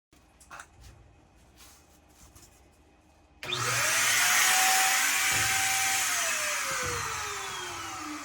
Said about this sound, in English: I didn't expect it to have such a good spray.